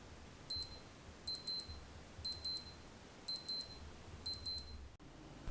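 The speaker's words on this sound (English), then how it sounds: "you can also test the alarm sound by holding down the bottom right button" A Casio WS-1700H digital watch alarm beeps in five quick bursts of high, thin double chirps, evenly spaced against a quiet background.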